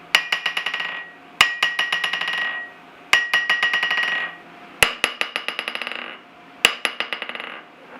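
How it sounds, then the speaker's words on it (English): A Vevor budget steel anvil struck by a hammer in five bursts, each a sharp clang followed by quick bouncing rebound taps and a bright sustained ring that fades before the next strike. "this anvil's got a little bit more of a ring to it"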